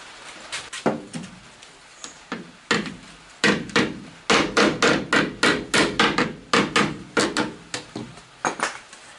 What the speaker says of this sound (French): il va falloir que je redonne un petit coup de marteau